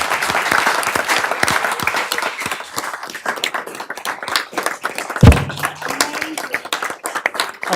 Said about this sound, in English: So please give these girls a great round of applause.